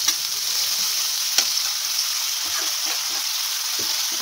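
Onions, tomatoes and ginger garlic paste fry together in a pan with a constant bright sizzle, close and steady, broken by a few soft scraping and stirring knocks.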